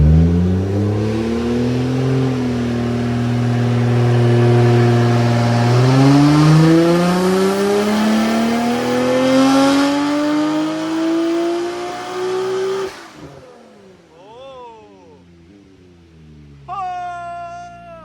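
Boosted Nissan R34 GTR on a dyno pulling hard, engine note climbing steadily in loud close revs for about thirteen seconds before cutting off sharply, followed by quieter whistling and turbo chatter tails.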